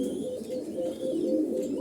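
Koka pigeons of the Bashi Raj breed coo steadily at close range, a continuous throaty rolling murmur with soft pulsing swells and no pauses.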